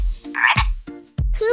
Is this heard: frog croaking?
yes